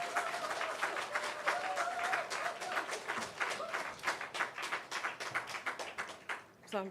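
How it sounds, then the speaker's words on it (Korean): A church congregation applauds in encouragement during a special early-morning worship service, with a moderate, fairly quiet patter of many hands that gradually thins and breaks into separate claps. A held tone sounds faintly underneath. "자 박수로 격려하겠습니다"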